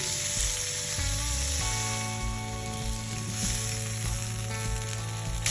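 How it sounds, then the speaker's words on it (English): A tomahawk steak, reverse seared and pulled from an offset smoker, sears hard in a hot pan with a loud, steady sizzle that carries on without a break, no voices over it. "So we're going to take off and sear it really hard."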